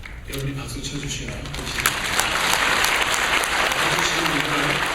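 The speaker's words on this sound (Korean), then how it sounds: "여러분이 박수 쳐주셔야" A church congregation breaks into applause, the clapping swelling and growing denser as it goes on, with a voice audible underneath at the start.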